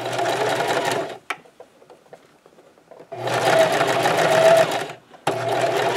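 A sewing machine stitches a scrub cap with a ponytail in two loud, close, steady runs, separated by a quiet pause filled with light handling of fabric, then a brief restart at the end.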